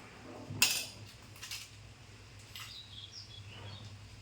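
A metal spoon presses a spiced filling into a pointed gourd (potol) for frying, making a sharp clink near the start and a few faint scrapes and taps afterward, quiet and without talk.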